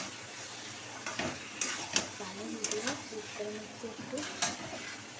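Chicken stir-fried with spices in a pan for a chicken curry, a constant frying sizzle broken by a few scraping stir strokes and clanks, while a person talks quietly over it.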